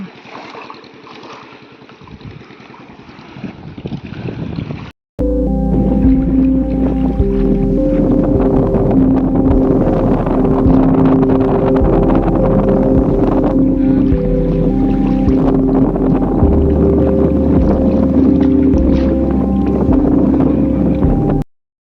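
A boat on a river in Royal Bengal tiger country gives a steady, loud engine drone with a droning tone, after a few seconds of gusty wind rumble; no talk.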